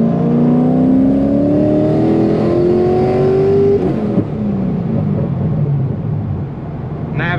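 A rear-mount twin turbo C6 Corvette running MaxxEcu, pulling hard in third gear, with a loud engine drone climbing steadily in pitch, then a gear drop and renewed rumbling pull, heard close from inside the car.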